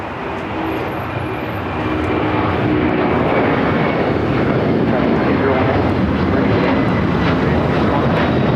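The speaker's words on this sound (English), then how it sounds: "That was that flight heading to Honolulu" An airliner departing Los Angeles International for Honolulu roars steadily overhead, a loud broadband engine rush that builds slightly and holds, with a voice speaking over it.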